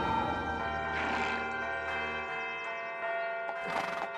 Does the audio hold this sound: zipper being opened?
no